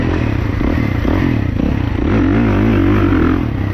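A 2024 Kawasaki KX450 dirt bike engine runs loud and near, its pitch rising and wavering as the throttle opens, with some rattling clatter underneath.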